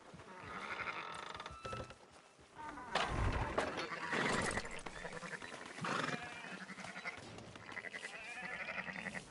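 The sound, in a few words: sheep bleating in a video game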